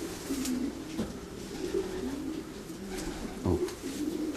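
Racing pigeons coo in a loft, soft repeated rolling calls rising and falling with a few sharper flutters or knocks, fairly quiet and close.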